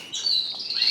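Colour canaries chirping, a short bright high-pitched trill of bird calls heard close and clear with no talk.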